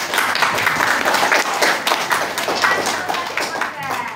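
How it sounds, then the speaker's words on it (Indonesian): A classroom of students clapping hands together, a quick rattling patter of claps at close range, steady throughout with a few voices mixed in. "Tepuk tangan kita."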